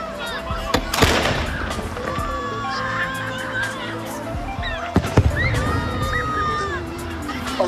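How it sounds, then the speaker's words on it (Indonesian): A traditional Ramadan cannon fires at sunset from the old Sarajevo fortress, with two sharp booms several seconds apart over busy outdoor ambience and distant voices. "Di benteng tua Sarajevo, meriam secara tradisional ditembakkan setiap waktu maghrib tiba."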